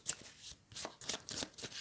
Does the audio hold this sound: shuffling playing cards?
yes